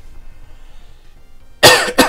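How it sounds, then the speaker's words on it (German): A man coughs close to the microphone, two sharp, loud bursts in quick succession after a moment of near silence. "Ja, bin hier ein bisschen am Husten wieder."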